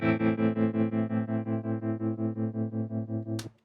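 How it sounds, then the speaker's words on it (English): A sustained guitar chord through a Strymon Flint tube tremolo effect pulses evenly with a smooth, wavering tremolo, about five throbs per second, then is cut off with a sharp click. "this is what the tube trem sounds like"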